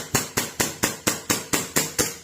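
An airsoft pistol that is low on green gas test-fires eight times. Each shot is a sharp, evenly spaced clack, loud and close, heard alone without talk.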